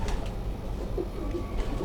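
Soft breeder pigeon cooing repeats under a steady background hum, close and low.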